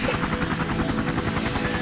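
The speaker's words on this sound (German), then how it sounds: "Da kommt ein Hubschrauber." A helicopter in the firefighting video game Emergency 4 sounds as a steady, loud rotor thump with a continuous engine whine, holding even throughout with no talk.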